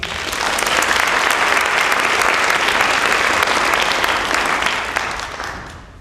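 A conference audience breaks into sustained, loud applause to welcome a plenary presenter, clapping evenly for several seconds before tapering off.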